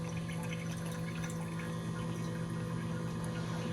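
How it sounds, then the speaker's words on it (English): Water pump of a TD1200 hydrogen gas generator running steadily, drawing water into the system with a constant near hum and faint trickling, no talk. "the pump is still running. It's still drawing in water into the system"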